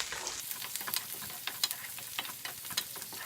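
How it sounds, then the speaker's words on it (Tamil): Garlic fries in hot oil in a pan for South Indian garlic rice, giving a steady crackling sizzle broken by scraping stirs and sharp pops, close and alone. "இப்போ இந்த பூண்டு நல்லா எண்ணெயிலேயே வணங்கட்டுங்க சுருண்டு"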